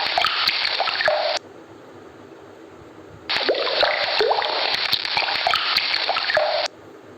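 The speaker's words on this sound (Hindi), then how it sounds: "पानी की जब एक एक बूंद गिरती है तब उसकी जो आवाज़ आती है" Water drops fall and splash in two long stretches of steady, bright patter with individual drips standing out, separated by a short quieter gap.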